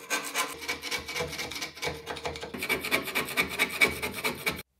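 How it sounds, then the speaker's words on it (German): An old flat-blade screwdriver scrapes old glue residue out of the groove of a wood-stove door during a gasket change, giving a steady, close rasping rub in quick repeated strokes for a few seconds before stopping abruptly. "sollten wir mal noch die alten Kleberreste aus der Nut entfernen. Hierfür am besten auch wieder einfach einen passenden alten flachen Schraubendreher"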